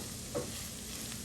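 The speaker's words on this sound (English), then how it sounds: "So now I'm going to stir my shrimp." Shrimp sizzle in a frying pan while being stirred, a steady close hiss of frying with one brief scrape of the stir.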